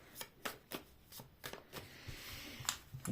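A deck of fortune-telling cards is shuffled close up in quiet, soft rhythmic riffles and taps repeating about every third of a second, with no talk over them.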